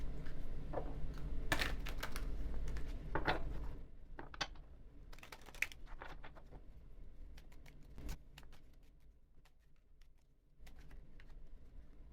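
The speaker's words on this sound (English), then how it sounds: "I'm going to go ahead and shuffle the cards in silence and then pull them" Tarot cards are shuffled quietly in irregular bursts of soft riffling and tapping, close up, with pauses between and no talking.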